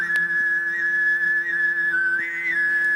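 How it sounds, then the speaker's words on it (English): Tuvan throat singing holds a steady low drone while a piercing whistle-like overtone rides high above it, sustained and loud, shifting pitch slightly near the end. "As they're singing, there's a kind of a whistle that develops on top of the singing."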